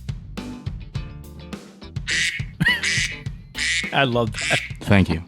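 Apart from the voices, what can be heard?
duck quacking alarm sound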